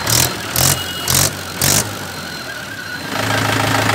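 A 2015 Mahindra 575 DI tractor in good condition runs near at hand, with four short loud bursts of engine noise at even intervals before it settles into a steady, rumbling idle.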